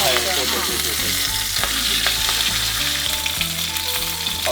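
A Costco tomahawk pork chop fries in a pan with a loud, continuous sizzle and spatter throughout, over a low, steady tonal hum.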